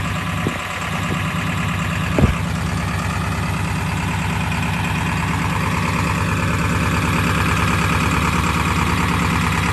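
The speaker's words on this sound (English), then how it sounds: "let's check out high idle" A truck engine held at high idle gives a steady, continuous mechanical drone with even harmonics, loud and close, with a brief knock early on and no speech.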